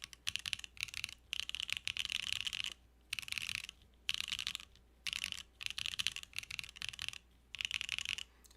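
Brisk bursts of typing on a mechanical keyboard with Gateron switches, close and crisp, rapid clacky keystrokes in short runs separated by brief pauses, no voice over them.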